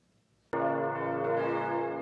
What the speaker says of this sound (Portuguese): os sinos do campanário Maria, Mãe da Igreja, já estão soando